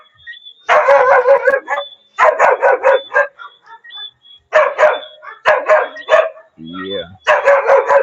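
Several dogs bark in bursts of rapid yips and howling cries, loud and close, with short pauses between volleys.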